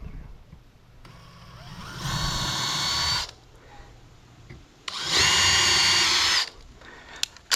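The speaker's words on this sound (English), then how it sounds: "our wood bit ends, we're going to drill those out" A power drill with a wood bit bores into a mahogany boat bow hatch in two loud bursts of about two seconds each, separated by quieter pauses with faint background noise.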